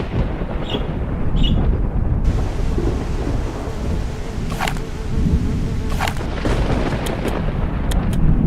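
Lightning strike and thunder in the video game Return to Mysterious Island: a continuous loud, rumbling storm roar with heavy crackling noise, broken by a few sharp bright cracks and buzzing, insect-like tones.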